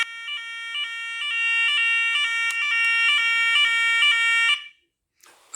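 A radio alarm test system set off, giving a loud, steady electronic beeping tone that pulses rapidly for about four and a half seconds and then cuts off abruptly.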